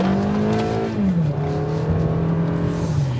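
2023 Toyota Camry LE pulls away on a test drive, a steady engine drone from inside the cabin that drops in pitch as it shifts gears and keeps pulling.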